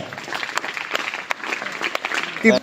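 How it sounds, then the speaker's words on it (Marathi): Enthusiastic applause from a school audience at a Saturday poetry gathering, cheering a sixth-grade girl's self-written poem; a dense, close patter of clapping sustained for a few seconds, then ending abruptly. "प्रल्हाद डावरे हिची ही स्वरचित कविता आहे आणि हिच्यासाठी जोरदार टाळ्या एकदा"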